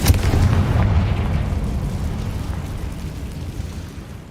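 A Confringo fire-blast spell explodes in Hogwarts Legacy with a loud, booming burst at the start that rolls into a dense, rumbling decay lasting several seconds.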